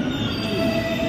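A metro train pulls into a station with a steady, loud rolling rumble and a thin, sustained high-pitched squeal from the wheels running throughout, with no voices.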